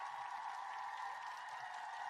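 A short canned cheer plays on a livestream, a brief, faint, even burst of crowd applause with no voices over it.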